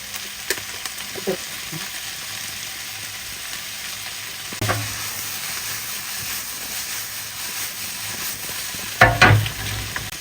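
Food stir-fries in a pan with oyster sauce and liquid seasoning, a steady sizzling hiss broken by a few scraping stirs and a louder burst of frying near the end.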